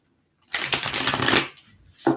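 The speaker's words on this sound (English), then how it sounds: "just a couple more shuffles here" A deck of tarot cards riffled in one quick shuffle lasting about a second, a dense, crisp flutter of cards, then a brief bridge and the start of another riffle, close and clear with no talk over it.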